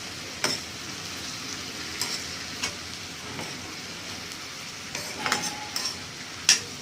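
A brinjal, tomato and fenugreek curry is stirred in a pan, with a low, soft background sizzle and occasional scraping clinks of a spoon against the pan.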